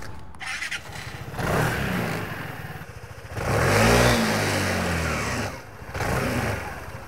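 A Vespa GTS300 or Lambretta X300 scooter engine revs in several surging bursts, rising and falling over a steady idle, close and loud with no talk.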